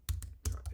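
A computer keyboard is typed on in a few quick, soft clicks close by, two pairs of light keystrokes with no voices.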